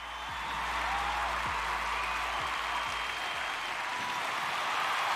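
A crowd at a Friday-night Halloween concert in the game Artemis cheers and claps in a dense, steady roar that holds for several seconds, with low thuds pulsing underneath.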